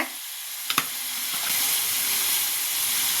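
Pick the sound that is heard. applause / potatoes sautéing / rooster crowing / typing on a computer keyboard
potatoes sautéing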